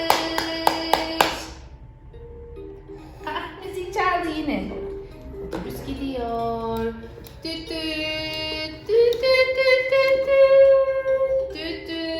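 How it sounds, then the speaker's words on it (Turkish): A few quick hand claps at the very start as a child is praised in a play session, followed by an adult talking in a lively, sing-song voice with scattered taps. "Bravo sana. Alkış."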